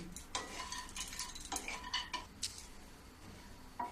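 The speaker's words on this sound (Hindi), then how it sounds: "इसी में मैं काजू, बादाम और पिस्ता ये तीनों में डाल दूंगी। अब इसको धीमी गैस में थोड़ी सी भूनूंगी" Cashews, almonds and pistachios roast in hot ghee over a low flame, giving a soft, steady crackle with intermittent clinks and scrapes of a spoon stirring the pan.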